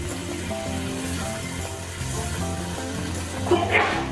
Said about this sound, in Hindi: अब इसमें मैंने प्याज और टमाटर चॉप कर लिया है, उसको इसमें डाल देंगे और मिक्स कर लेंगे